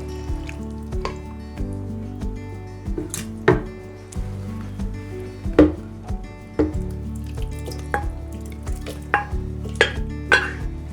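Chopped vegetables for a Finnish zucchini soup go into a blender jar as a loose series of soft knocks and clatters over a steady low kitchen hum, with no talking.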